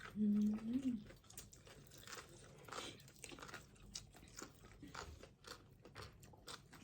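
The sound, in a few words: chewing and crunching som tam papaya salad with pla ra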